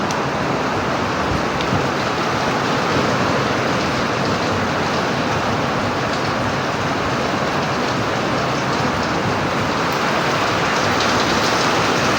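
Steady heavy rain pouring down outside an open window, a dense even hiss that stays constant and close throughout, with no voices.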